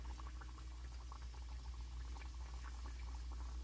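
Copycat Chick-fil-A chicken pieces frying in hot oil at about 358 degrees, a dense, continuous bubbling crackle heard close up.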